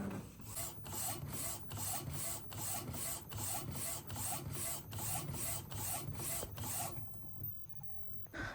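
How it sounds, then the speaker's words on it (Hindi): A printer runs automatically, printing a picture meant for a resin frame: steady rhythmic mechanical passes with regular clicks and rasping feed strokes for about seven seconds, then stopping into quiet. "अब उसको ऑटोमेटिकली प्रिंट कर रहा है"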